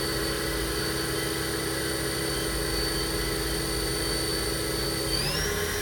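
A 2010 Southwestern Industries Trak LPM CNC vertical machining center spindle runs steadily at 4,000 RPM, a constant loud whine with layered tones that shifts upward in pitch near the end.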